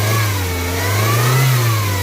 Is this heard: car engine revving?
yes